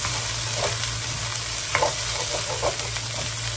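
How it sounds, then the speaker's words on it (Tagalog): Fried rice with Tulip pork luncheon meat and whole kernel corn sizzles steadily in a pan while a wooden spatula stirs and scrapes it, soft irregular scrapes over the constant frying hiss. "Halo-haloin yung pag nag-fried rice kayo, guys, para hindi masunog."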